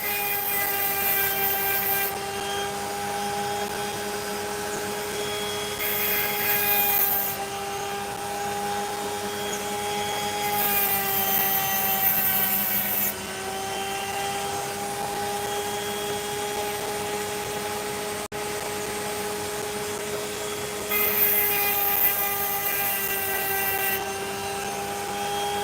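A Dremel rotary tool works on a piece of opal, a constant high motor whine with a steady tone, close by, the grinding hiss swelling in several bursts as the bit meets the stone.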